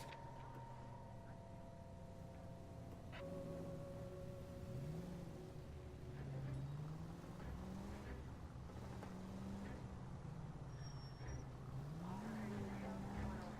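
A car driving along city streets in L.A. Noire, a low steady engine hum with gentle pitch swells as it accelerates and shifts, faint beneath conversation between occupants.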